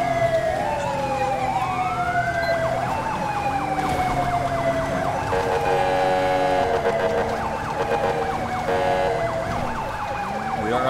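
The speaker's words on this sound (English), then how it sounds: "It'd be really nice if that guy behind me would change his siren." Police car siren in the GTA 5 video game wails continuously, sweeping up and down in repeated cycles, loud and close over a low road-engine rumble, with no talking.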